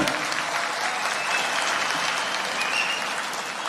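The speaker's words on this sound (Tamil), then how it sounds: "எல்லாரும் ஓங்கி நல்ல கைத்தட்டலாமே" A crowd at a Tamil Nadu BJP political gathering applauds loudly and steadily, dense clapping from many hands filling the space without a break.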